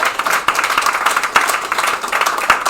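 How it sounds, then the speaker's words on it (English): Steady applause from a crowd at a graduation, dense clapping with a few sharper peaks, loud and sustained throughout. "Give them one big round of applause."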